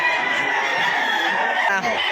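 A fine gamecock crows at a rooster sale, a long drawn-out call close by and fairly loud, with a brief break near the end.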